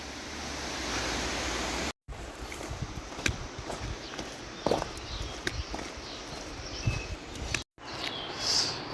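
A continuous rush of a river flowing close by, its stepping stones washed away, broken by two brief cuts, with scattered clicks and footsteps over the steady wash.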